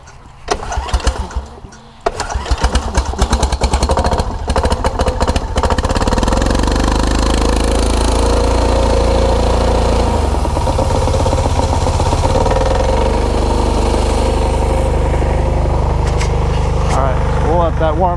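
A small pull-started engine sputters and catches after a few tugs, then settles into a steady, loud, buzzing run as it warms up near the microphone.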